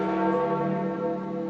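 Church bells tolling at St. Peter's Basilica in the Vatican during a papal funeral procession, one sustained ringing bell tone that holds clear and fairly loud.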